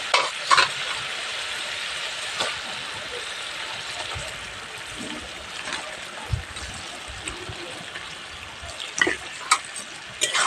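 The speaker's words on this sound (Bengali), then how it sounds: "এবারে এর মধ্যে চিকেনটা দিয়ে দেবো।" Chicken pieces frying in spiced masala in a pan, a steady soft sizzle with intermittent scraping and stirring knocks, close and fairly quiet.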